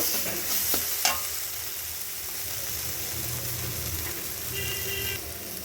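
Sliced bitter gourd with a little sugar being stirred in a hot pan, with a continuous sizzle and scraping stirring, plus a couple of brief utensil clinks near the start, no talking.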